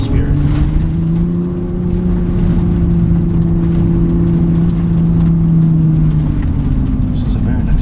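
A 2017 Nissan GT-R Premium engine accelerates hard through downshifts on a rainy road, a loud close drone with a steady droning pitch holding for several seconds and then easing off.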